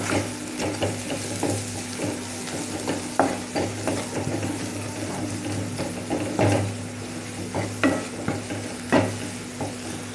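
Spoon stirring garam masala and red chilli powder in a pan for boiled egg bhurji, with repeated close scraping knocks over a steady low sizzle and hum, no voices.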